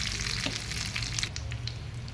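Curry leaves crackle and sizzle in hot ghee as a tempering for a dal made with punarnava greens. The frying is a steady, fairly faint hiss with small pops and no voices.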